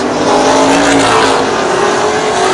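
Late model sportsman race cars roar around the Plymouth Speedway oval during a CRA feature, a loud continuous engine drone close by with no letup.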